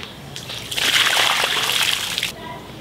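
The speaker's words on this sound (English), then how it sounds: "I'm just gonna kind of do a quick rinse with my arm in here." Clothes are rinsed by hand inside a Scrubba travel wash bag, the water sloshing and swishing in a steady, close burst for about two seconds before it stops.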